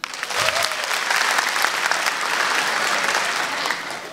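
Audience at a stand-up comedy show bursts into dense, sustained applause, a full crowd clapping loudly and continuously for several seconds with faint cheering mixed in.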